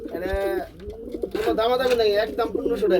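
Pigeons at a pigeon farm give soft, repeated throaty coos close by, with a person talking over and between the calls.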